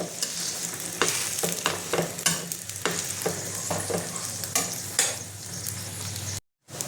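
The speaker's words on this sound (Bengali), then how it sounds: "হালকা লালচে করে ভেজে নেব। এবং পরোটাটা সুন্দর ফুলে যাচ্ছে।" Sesame and almond paratha fries in a pan with a steady, close sizzle, broken by a series of sharp crackles and spatters, then cuts to sudden silence near the end.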